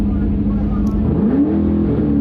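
A Mazda drag car powered by a 347 engine does a burnout, holding a loud, raw engine roar before revving higher as it moves up from first gear into second, with talk over the top.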